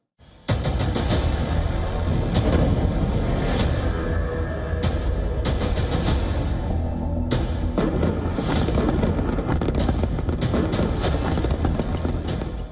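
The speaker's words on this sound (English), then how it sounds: "The explosion comes first, then the dust swallows everything." A sudden loud blast from a FAB-3000 glide bomb opens into a sustained, heavy roar of rumbling debris, punctuated by sharper cracks and bursts throughout.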